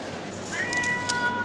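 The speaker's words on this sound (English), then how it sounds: "The cat's not happy." A cat gives a short, thin, unhappy meow, fairly faint and brief, rising over a low room hum with a voice nearby.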